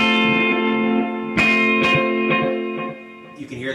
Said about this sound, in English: you can hear the wow and flutter of the aged tape.